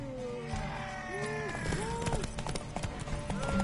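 Horse hooves pound rhythmically in a race in The Witcher 3, a fairly close run of clip-clopping mixed with game voices and music tones.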